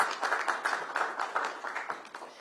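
Audience applause at a Walter Reed retail grant announcement: a dense, steady patter of many hands clapping together, moderately loud, tapering slightly toward the end.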